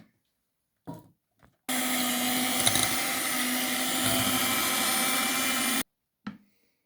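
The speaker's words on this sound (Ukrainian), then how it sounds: "Три яйця збиваємо і 100 грамів цукру міксером чи блендером." An electric mixer beating three eggs with sugar whirs steadily for about four seconds, starting and stopping abruptly, with brief clatter just before and after.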